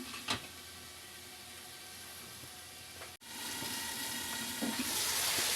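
Diced tomatoes cook for menudo in a covered pan, giving a faint, steady sizzle with a few small clicks and a brief cutoff before the hiss resumes slightly louder.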